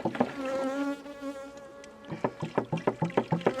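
Honeybees buzz in a loud, wavering drone close by during a hive inspection with aggressive bees, followed by a run of rapid, regular buzzing pulses that come and go.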